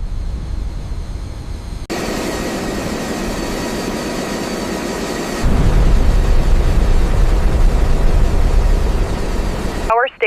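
An aircraft engine lights off inside a large aircraft factory, a broad rushing roar that steps up sharply in loudness partway through and holds steady before cutting off abruptly.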